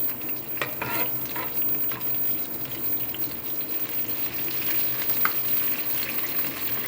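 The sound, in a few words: whole garam masala spices frying in a pan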